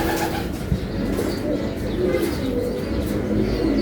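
Racing pigeons coo softly and repeatedly as they arrive home, over a steady outdoor background hum, with faint chirps mixed in.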